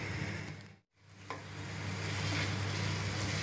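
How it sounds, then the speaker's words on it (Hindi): Tomatoes for aloo keema cook covered on a low flame, giving a steady close sizzle and hiss that briefly drops out before returning and holding evenly. "अब इसे ढककर टमाटर गलने तक लो फ्लेम में पकाएं।"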